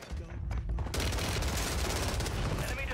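MAC 11 submachine gun fired from the hip at close range in Warzone, a dense unbroken burst of rapid automatic shots following a few scattered earlier shots, loud and close, with a voice talking faintly underneath.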